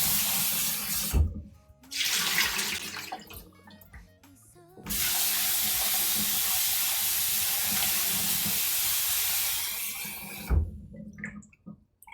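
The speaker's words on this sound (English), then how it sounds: "I just have the water in here and I'm just rinsing them around" Tap water runs steadily into a sink while soaked potatoes are rinsed, with a couple of short bursts early on, then a long continuous loud gush before it cuts off.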